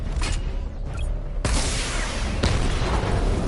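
In Batman: Arkham Knight, a missile barrage fires with two sharp, heavy booms about a second apart over a steady background rumble.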